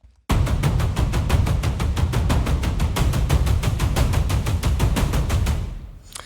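Rapid, driving drum hits from an epic percussion library rhythm section pound out a fast, syncopated pattern for about six seconds, loud and dense, then cut off abruptly.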